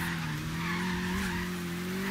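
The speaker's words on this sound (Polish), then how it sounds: "Da się nim robić za to fajne arabskie drifty, widzę." A car drifting in Forza Horizon 3, with a sustained tire skid and squeal layered over a steady engine drone, loud and continuous for the whole stretch with no talk.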